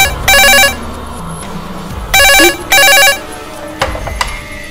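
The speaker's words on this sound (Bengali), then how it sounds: "প্লিজ ফোনটা ধরো, না হলে কিন্তু সারাক্ষণ ফোন করতেই থাকবে।" A telephone ringtone sounds in three loud electronic bursts, the last two close together, followed by a few soft knocks and handling noises nearby.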